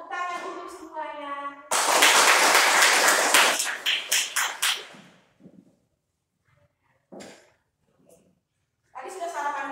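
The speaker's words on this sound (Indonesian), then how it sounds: "Tepuk tangan untuk semuanya." A school class claps together in a short loud burst that breaks into a few scattered claps and trails off, with a teacher and children talking before and after.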